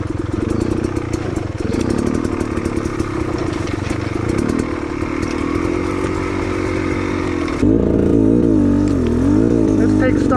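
A dirt bike rides a rough cow trail, its engine droning loud and close with rising and falling revs and some clatter, and the pitch jumps higher near the end as the rider accelerates.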